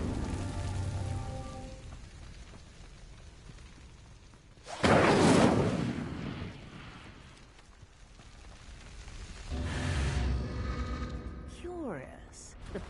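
Casting the Incendio fire spell at pyres in Hogwarts Legacy sets off a loud, rushing whoosh of flame. A second, softer burst follows several seconds later, with a voice speaking and ambient game sound in between.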